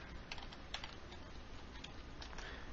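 Very quiet typing on a computer keyboard, a soft scatter of key clicks at an uneven pace with no talking.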